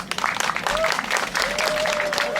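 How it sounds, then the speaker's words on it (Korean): Outdoor festival crowd at a village silverberry-picking opening ceremony applauds the residents who prepared food, a steady wash of clapping with a few louder claps and faint voices underneath. "우리 음식 준비하신 우리 주민 여러분께 한번 박수 한번 보내주세요"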